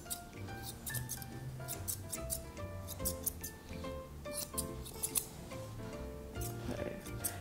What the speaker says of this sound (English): using my curves, I'm just going to come across and snip that hair off